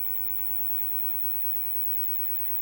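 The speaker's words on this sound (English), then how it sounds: "Tremendous amount of hiss." A Fenton Weill Bass 15 valve amplifier under repair gives off a steady, even hiss, constant and unbroken throughout with nothing else over it.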